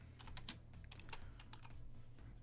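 Steady, fairly quiet typing on a computer keyboard, with irregular clusters of key clicks over a low background hum and no voices.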